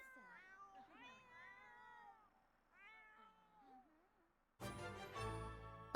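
Several meows from a pet cat in The Sims 4 life-simulation game, a run of rising and falling calls over about four seconds, followed by a burst of louder, dense game sound.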